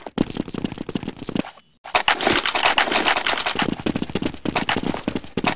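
Rapid bursts of gunfire from a Counter-Strike match, a quick flick-shot kill: dense, loud crackling volleys with a brief silent gap, then sustained close rapid shots continuing to the end.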